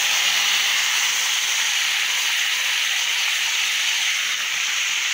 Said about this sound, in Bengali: সেই তেলের মধ্যে এই মাংসটুকু রান্না করে নেব